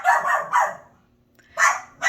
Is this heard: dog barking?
yes